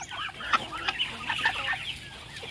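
Farm fowl, a muscovy duck and a turkey, give a run of short clucking calls close by, several quick notes in a row against a quiet yard background.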